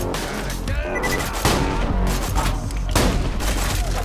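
Heavy gunfire from a double-barrel shotgun in Borderlands 2, booming shots landing in quick pairs over a dense background of battle noise, loud and close.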